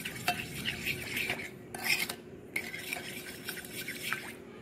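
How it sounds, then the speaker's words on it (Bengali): Powdered sugar and oil mixed together in a bowl, a steady scraping and swishing of a spoon with light clinks against the bowl, close but fairly quiet, with no voices. "এ দেখো চিনির গুঁড়ো তেল খুব ভালো করে মেশানো হয়ে গেছে।"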